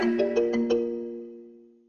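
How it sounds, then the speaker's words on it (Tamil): A mobile phone ringtone plays a short melodic run of four bright chiming tones about a beat apart, then the last note rings on and fades out slowly, clear and alone with no talking. "ராணிக்கா மொபைல் அடிக்கா"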